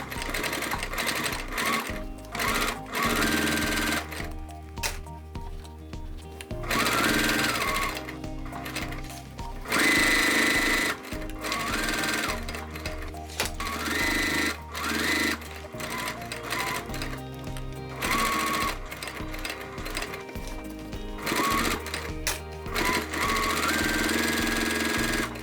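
A sewing machine bastes around the edge of a crossbody bag in repeated rhythmic bursts of fast mechanical stitching, broken by short pauses between runs, loud and close.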